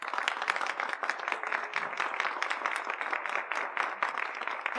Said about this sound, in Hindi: इस बात के लिए जोरदार तालियां।